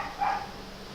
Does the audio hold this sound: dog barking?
yes